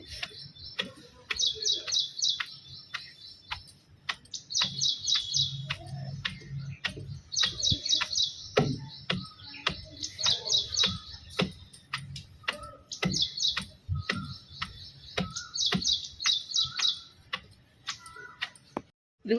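A small bird sings in short, repeated bursts of high chirps, with sharp, rhythmic tapping clicks close by throughout.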